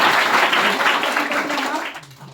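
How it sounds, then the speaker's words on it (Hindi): Students at a school assembly break into clapping, a dense wash of many hands that starts loud and gradually tapers off as it fades toward the end. "ताली तो बजाओ।"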